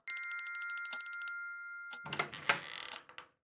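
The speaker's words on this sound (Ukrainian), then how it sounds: "Аж ось пролунав срібний дзвоник." A small silver bell rings in a quick series of bright metallic strikes whose tones linger, then fades away under a softer rustle of movement close by.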